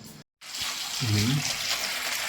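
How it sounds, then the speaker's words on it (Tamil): Tap water runs into a cooking pot in a home kitchen, a steady close gushing hiss broken by a brief cut near the start, with a faint voice murmuring underneath. "இப்படி ஒரு பாத்திரத்துல தண்ணி புடிச்சு வச்சுட்டு"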